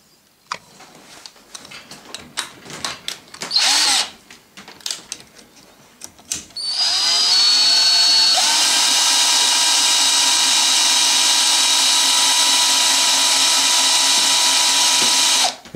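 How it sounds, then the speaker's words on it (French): A power drill starts after some handling clatter and then runs steadily at high speed with a loud, constant whine for several seconds, close by, while making a rope splice. "Là je vais prendre ma perceuse."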